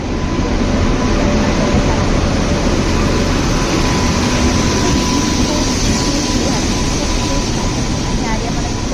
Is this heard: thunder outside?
no